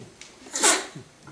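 A single sharp sneeze bursts out in a conference hall during an e-commerce talk. It is loud and brief, with quiet room tone before and after.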